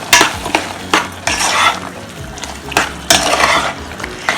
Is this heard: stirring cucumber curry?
yes